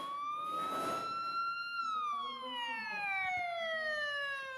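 A wailing ambulance siren in a flight simulator game sweeps up and then slowly down in pitch, steady and moderately loud, with faint background noise beneath.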